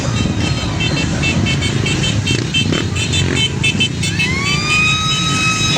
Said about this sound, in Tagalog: Oh, may sirena yan.